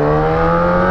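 A Honda CB1000 tricolor motorcycle engine revs loud and close for about a second, a steady, strong mechanical drone with rich harmonics and no voices over it.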